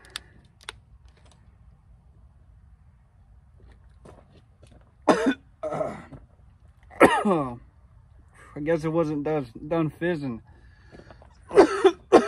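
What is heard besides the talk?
coughing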